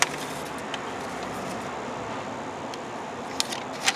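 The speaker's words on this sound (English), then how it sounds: "As you can hear in the video, is the motor running right now." Steady broadband air rush of a Toyota Tacoma A/C blower motor running on its low setting, a constant even whoosh with a few faint clicks and no talk.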